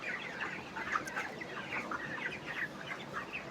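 A flock of chickens on a poultry farm clucks continuously in an overlapping murmur of soft calls, with no voices.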